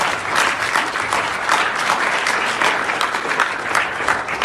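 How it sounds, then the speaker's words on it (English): A graduating class at a school graduation ceremony applauds itself, a loud, full round of dense clapping that holds steady from start to finish. "I want you to give yourself a resounding round of applause."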